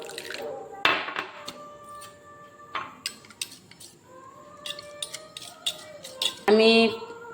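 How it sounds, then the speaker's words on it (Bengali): Ground cumin, coriander and chili powder are stirred with water in a bowl, giving light spoon clinks against the dish and a splash of poured water near the end, with a voice speaking in between. "জল দিয়ে গুলিয়ে নেব।"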